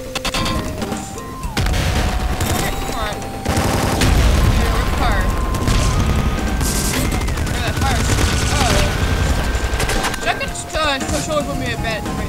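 Rapid, dense gunfire from the top-down shooter Nuclear Throne, with bursts of shots, booms and electronic game effects layered over game music. A voice talks over the barrage.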